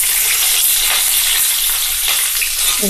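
Cumin, mustard seeds, cashews, bay leaf and potatoes fry loudly in a hot kadai for poha pulao, a dense, continuous close sizzle with no talking.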